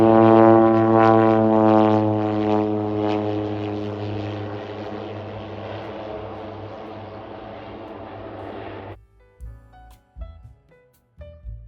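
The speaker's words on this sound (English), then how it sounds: "at the small Roche Harbor Airport, you can see small planes land and take off" A small propeller plane at Roche Harbor Airport, San Juan Island, Washington, drones loudly and steadily, then the engine noise cuts off abruptly near the end, leaving scattered faint knocks.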